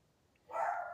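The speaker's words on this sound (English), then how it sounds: "Oh, my dog is so loud." A single dog bark bursts out after a quiet half second and rings on briefly indoors, moderately loud with no talking.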